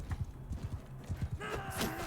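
Horse hooves clip-clop in a fast, regular galloping rhythm in Mount & Blade II: Bannerlord, prominent and close, before clashing battle noises and a sharp ringing hit take over near the end.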